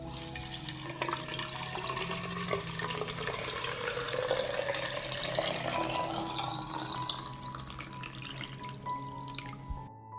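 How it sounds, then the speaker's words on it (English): Boiling water poured into glass jars packed with tomatoes, a continuous close pouring and splashing stream with a rising fill tone, running steadily for about ten seconds before a clunk at the end, with no talk over it. "This is how I pour the boiling water into the jars."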